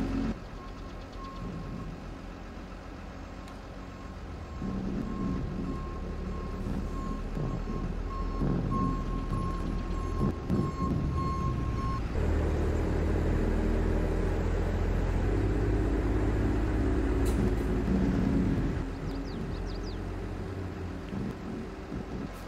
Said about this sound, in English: let's hop in the dump truck. Let's unload some gravel here.